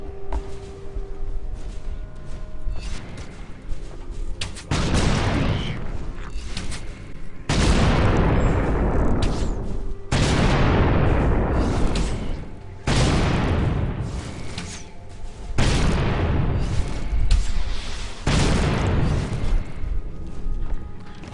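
Thief skill explosions in Guild Wars 2 go off as loud, sharp booms, about eight of them spaced roughly two to three seconds apart, each trailing into a decaying rumble.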